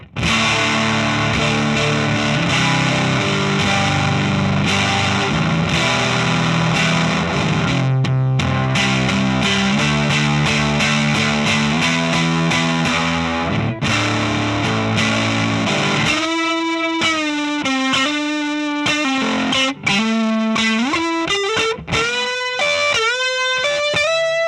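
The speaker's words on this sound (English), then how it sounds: "this is what the distortion sounds like." Distorted electric guitar from a touring rig, thick saturated chords that give way to sliding single-note lead lines, loud and continuous with no talking.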